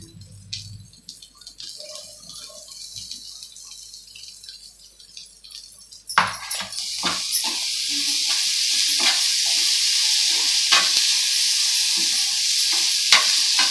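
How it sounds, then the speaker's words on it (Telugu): Grated amla for usirikaya pulihora hits a hot pan partway through and bursts into a loud, steady sizzle. A spoon scrapes and stirs it in repeated strokes, after quieter clinks and stirring at the start. "ఇప్పుడు ఉసిరికాయ తురుము ఇందులో వేసుకోవాలండి."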